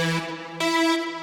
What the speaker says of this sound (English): The first is from Serum, which consists of this PWM Juno and subby saw oscillators